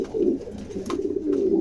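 A pigeon coos in a pigeon showroom, a couple of soft, low throaty calls close to the mic in a brief clip.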